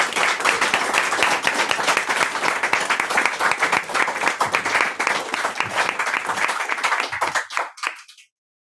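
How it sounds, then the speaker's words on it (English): A poetry-night audience gives a round of applause for poet Tania Haberland, dense steady clapping for about seven seconds before it thins out and stops abruptly. "can we get a round of applause again, please, for Tania Haberland?"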